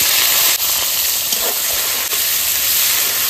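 Onion drops into hot oil already seasoned with cumin, bay leaf and dry chilli, setting off a loud, steady sizzling hiss that crackles briefly twice and carries on without any voices.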